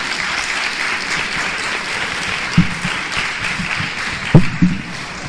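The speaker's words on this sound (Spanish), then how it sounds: "Os pido un fuerte aplauso." An audience at a book talk applauds steadily and fairly loudly, a continuous patter of clapping with a few louder thumps near the end.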